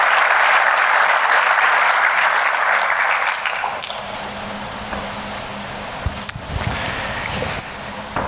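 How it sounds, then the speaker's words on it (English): An audience at a corporate keynote bursts into loud, dense applause that fills the room, then thins out and fades to scattered claps and room noise over the last few seconds. "Let's get a round of applause."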